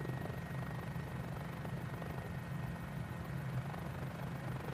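A Mini-500 helicopter in a flight simulator game drones with a steady, even rotor and engine hum, moderately loud and unbroken, with no talk.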